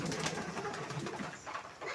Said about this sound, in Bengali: কবুতরগুলো হচ্ছে এই যে এখানে আছে